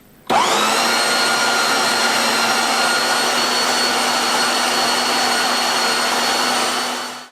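An electric meat mincer grinds pork for Lincolnshire sausages with a loud, steady motor whine that starts abruptly, runs unbroken for several seconds and then winds down at the end.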